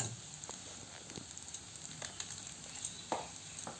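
Spices being mixed into a pan for ghugni sizzle faintly, with soft intermittent stirring taps and scrapes over a low, steady background hiss.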